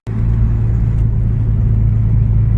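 A car drives along the road with a loud, steady engine rumble and road drone that holds evenly throughout, heard from inside the cabin with no talking.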